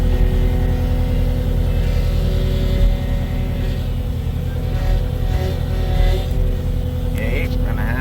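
An engine idling down: a steady, loud, close-up mechanical drone with a low humming throb that holds throughout without pauses.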